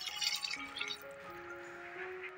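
Water pours into a pressure cooker holding mutton biryani, a short burst of near splashing that settles into a rising filling tone as the pot fills.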